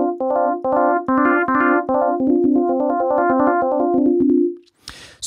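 A rhythmic sequence of FM synthesizer sine-wave tones whose timbre grows brighter and more metallic as modulation increases, then cuts off, followed by a brief noisy burst.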